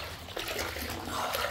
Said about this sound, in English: let me turn off some of that cold water.